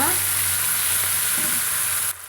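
Brinjal pieces with curry leaves sautéing in a pan for a brinjal fry give a loud, continuous sizzle. It holds steady for about two seconds and then cuts off abruptly.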